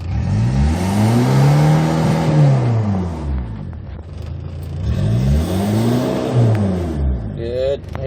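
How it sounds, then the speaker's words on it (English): Engine of a used Hyundai Porter light truck revving in two long rises and falls, each climbing in pitch then easing back down, close and loud with steady idle between. "Can you hear the sound of the engine?"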